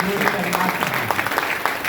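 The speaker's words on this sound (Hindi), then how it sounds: "एक बार जोरदार तालियां हमारे" An audience gives loud applause at a leadership program event, a quick burst of clapping that stays dense and even over the whole moment, with a voice heard alongside it.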